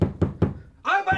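Three firm, evenly spaced knocks on a door ring out close and loud, after which a raised voice begins speaking.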